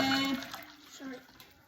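Water pours briefly into an Urban Max blender jar, a splashing trickle that fades after a moment while a voice is heard faintly in the background.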